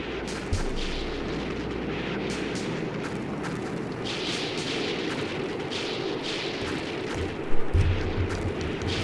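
Continuous rumbling barrage of bombs and explosions from a strategy war game depicting the 1991 bombing of Kuwait City, dense and steady, with a heavier boom near the end.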